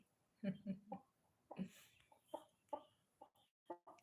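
Backyard chickens clucking in short, irregular bursts, fairly close, with quiet pauses between calls and no talk over them.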